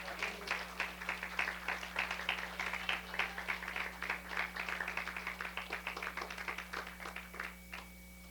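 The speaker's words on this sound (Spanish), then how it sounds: "Amén, démosle un aplauso al Señor." A church congregation claps together in praise for several seconds. The dense, steady applause runs over a low constant hum and then thins out and stops near the end.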